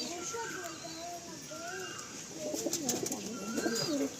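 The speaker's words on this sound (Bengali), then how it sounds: "এই হচ্ছে ফুলসিরা ফিমেল।" A female Fulsira pigeon coos in soft, repeated low calls, fairly close, with other birds and faint children's voices in the background.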